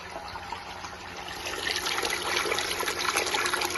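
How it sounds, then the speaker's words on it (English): A SHYSKY 24VDC 120W micro water pump runs submerged, giving a steady watery churning and gurgling hiss that swells slightly louder partway through, with no talking. "We will place this pump underwater and feel its noise class."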